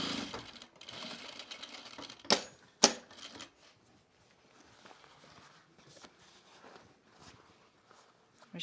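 A sewing machine stitching elastic into a seam, with bursts of rapid mechanical whirring and clatter, a couple of sharp knocks, then quieter intermittent stitching and handling noises.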